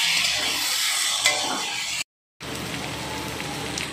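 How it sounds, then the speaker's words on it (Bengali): Marinated chicken stirred in hot oil in a wok, giving a dense, steady sizzle like heavy rain, with a brief silence partway through before the crackling frying resumes. "ওই তেলে আমি ম্যারিনেট করা চিকেনটা দিয়ে দিচ্ছি, দিয়ে একটু নেড়ে নিচ্ছি"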